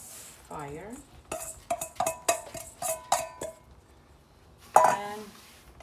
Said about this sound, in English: And mix it in the honey. Make sure it covers all.